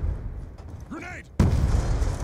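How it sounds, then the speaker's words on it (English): A grenade going off in Black Ops 2 multiplayer: a sudden loud, close blast that cuts in after a brief lull and rumbles on to the end, with a commentator's voice heard just before it. "Grenade."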